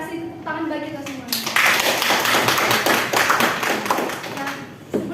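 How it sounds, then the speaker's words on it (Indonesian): Classroom applause from students during a micro-teaching lesson, a burst of many hands clapping that swells then fades over a few seconds, with voices talking over it. "tepuk tangan bagi kita semua."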